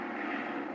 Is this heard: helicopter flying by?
yes